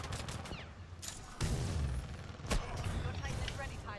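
Gunfire in the video game Titanfall 2, a dense burst of rapid shots and heavy impacts with mechanical clatter, loud and continuous, with a player talking over it.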